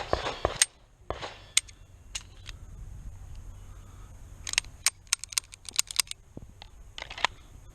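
Sharp, dry pistol cracks from a Beretta 92 Elite LTT at an outdoor shooting range, scattered across the moment in bursts and single shots, some near and some fainter, with no talking.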